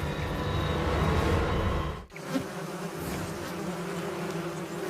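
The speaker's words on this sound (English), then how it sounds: "Squadrons of carnivorous rainforest wasps take to the air." A dense, continuous buzz of many carnivorous rainforest wasps in flight drones close by, briefly cutting out before resuming at a slightly lower level.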